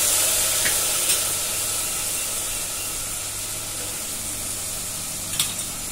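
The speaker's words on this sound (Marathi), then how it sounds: "चिकन पीस टाकूया" Chicken pieces sizzle steadily in a pot of pulao with rice and water, a continuous close frying hiss with a few brief clinks from stirring, no talk.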